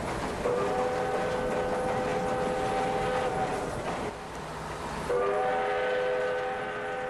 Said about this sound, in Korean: 마르세유에서 파리로 가는 기차를 탄다